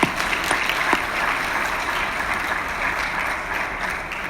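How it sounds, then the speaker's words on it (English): Audience applause at an award ceremony in Kigali honouring women researchers, a steady, dense wash of many hands clapping that holds evenly throughout, fairly close and full. "Let's give them all a big applause."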